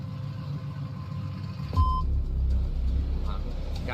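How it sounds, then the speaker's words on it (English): A loud truck engine rumbles as it passes close by outside a research center, swelling suddenly partway through with a brief tonal beep, then holding a heavy low drone. "this loud truck"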